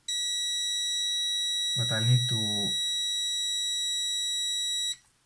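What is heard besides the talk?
beeping from a Polaroid SX-70 camera during restoration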